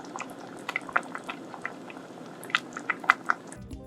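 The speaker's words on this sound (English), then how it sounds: "Bring it to a boil and then lower the heat to gently simmer" Vegan tomato pasta sauce with basil bubbling in a pot at a gentle simmer, soft irregular plops and pops close by over a low liquid hiss, no voices.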